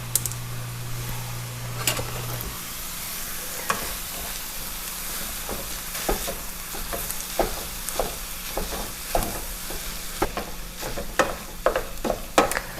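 Breakfast sausage browning in a pan, with a steady hiss of frying throughout and scattered clicks and scrapes from stirring, growing busier toward the end, close and moderately loud.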